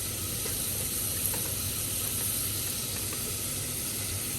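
Onions, peppers and garlic sizzling in hot olive oil in a pot, a steady, even hiss and crackle close by with no pauses and no voices.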